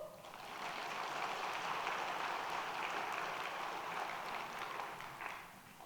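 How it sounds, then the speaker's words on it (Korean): A church congregation applauds during a sermon, a broad dense wash of clapping that swells in, holds steady for several seconds, then tapers off. "박수."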